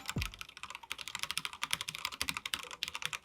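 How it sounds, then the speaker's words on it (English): Rapid, steady typing on a custom mechanical keyboard with an acrylic plate, 3mm plate foam and Gateron milky yellow switches, giving close, soft, creamy keystrokes in a continuous flurry with no talking. "This build has an acrylic plate paired with 3mm plate foam and Gateron milky yellow switches for a smooth and creamy typing experience."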